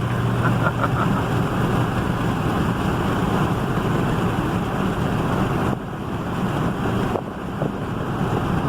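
An old truck's engine runs while driving, a steady, continuous low rumble mixed with heavy wind buffeting that briefly dips near the end.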